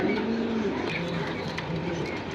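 Pigeons coo at a pigeon stall in Jinjira market, Keraniganj, their low throaty calls repeating under a dense, steady market din.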